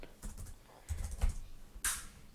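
Keyboard typing while building a MicroWiki article: a few scattered soft clicks and a brief louder burst of keystrokes near the end, close and quiet.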